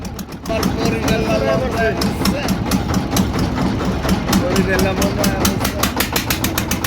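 A river trawler boat's engine chugs loudly and steadily with a rapid, regular knocking rhythm while crossing a river, close up and continuous throughout.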